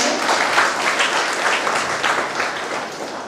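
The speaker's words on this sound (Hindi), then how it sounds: "सर के लिए एक बार जोरदार तालियां।" Loud, enthusiastic applause from an audience at a Hindi comic poetry event honoring poet Surendra Dubey, dense continuous clapping from a large crowd, close and sustained with no talking.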